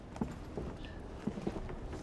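Horse hooves clip-clop in a short, uneven series of soft near strikes over a low background murmur in a fantasy-film setting.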